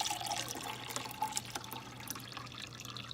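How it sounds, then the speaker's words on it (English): Water poured into the reservoir of a vitamin machine, a steady trickling fill with light splashing and faint drips, close and continuous with no talk. "This is the reservoir where you put the water. So I'm just gonna pour this in here."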